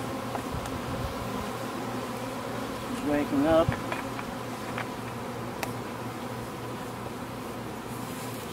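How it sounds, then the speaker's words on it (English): Honey bees buzz around an open hive during a queen introduction, making a dense, steady, close drone throughout. A person murmurs briefly partway through. "Get rid of those bees."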